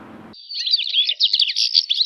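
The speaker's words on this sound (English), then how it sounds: "For many people, bird chirps are nature's soundtrack for their morning." Birds chirp in rapid, high, twittering calls close by and loud, starting after a brief moment of another sound and continuing without pause.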